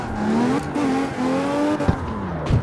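A V12 drift car in CarX Street, its engine holding a steady high rev with rising pitch as it slides, tires squealing through the drift and a couple of sharp clunks near the end.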